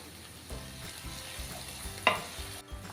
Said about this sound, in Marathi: आता ह्यामध्ये मी आळू लसूण पेस्ट घालते अर्धा चमचा तीसुद्धा मिक्स करून घेऊया